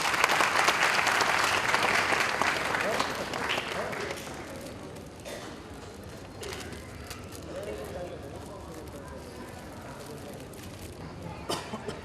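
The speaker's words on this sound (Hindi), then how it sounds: "तालियों से आप सब अभिनंदन करें।" Audience at a Sharda Group foundation day function clapping in welcome, loud sustained applause for several seconds that thins out into scattered claps and room noise, with a few stray claps near the end.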